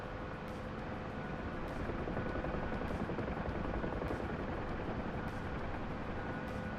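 An Apache helicopter flying in a video game, its rotor and engine making a steady, dense drone that holds at an even loudness throughout, with no one speaking over it.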